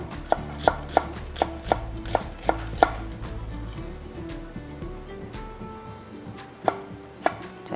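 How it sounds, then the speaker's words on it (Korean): Onion, carrot and celery are finely chopped on a cutting board with a knife, a quick run of sharp, close knocks that slows into scattered cuts over a quiet low room hum. "양파, 당근, 샐러리 곱게 썰어서 준비하시고"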